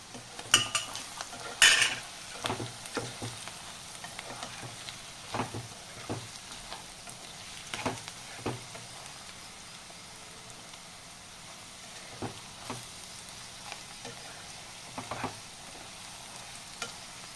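Bitter gourd and onion fry in a pan, with a steady sizzle under repeated scraping strokes of a spoon stirring through the pieces, close and moderately loud, with no talking.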